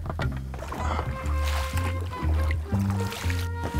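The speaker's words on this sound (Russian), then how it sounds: "Так, Кобяк, подгребай." A boat is rowed on a lake, with soft oar strokes and water movement under nearby low voices and murmured talk, close and fairly quiet.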